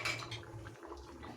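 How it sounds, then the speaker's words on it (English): Beans stirred in coconut sauce in a cooking pot, with a spoon clinking and scraping against the metal in a steady, close rhythm over a soft simmering bubble. "Now we'll just stir it and reduce your heat more to low and let it simmer."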